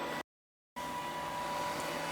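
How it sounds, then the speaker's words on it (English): A nearby vacuum cleaner gives a steady, close drone that drops to silence for a moment and then resumes at an even level. "the vacuum cleaner is right near to me"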